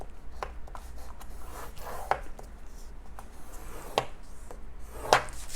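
A paper card for a book box is scored with a tool, giving quiet scraping strokes and a few sharp taps at irregular intervals against a soft background hum.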